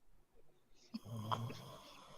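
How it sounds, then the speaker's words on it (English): A person snores faintly nearby, a low rasping rumble rising after a moment of near silence and continuing softly in the background. "Stop snoring."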